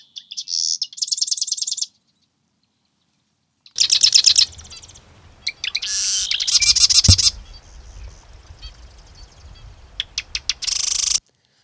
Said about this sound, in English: the marsh wren are calling like crazy